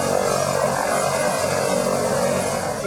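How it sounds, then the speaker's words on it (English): A helicopter arrives to land during an SES emergency training exercise, its rotor and engine roar loud, steady and close throughout. "preparations were being made for a helicopter landing"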